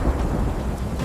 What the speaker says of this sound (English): innocent slave Sextus listens to the rain